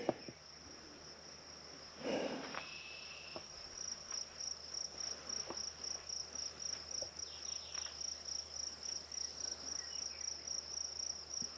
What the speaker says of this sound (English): Grasshoppers and crunchy shoes.